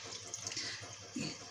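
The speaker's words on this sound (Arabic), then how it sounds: "يلا بينا نصب الايه ميه الخيار اللي احنا عملناها، حدقناها بالملح والسكر" Salted, sugared brine is poured into a jar of cucumber pickles, a steady close splashing and gurgling stream that swells louder near the end.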